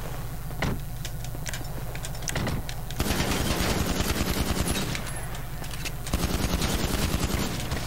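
AP pistol gunfire during a video game heist comes in rapid bursts, with sharp repeated cracks at first and then long dense volleys, loud and close, over game background noise.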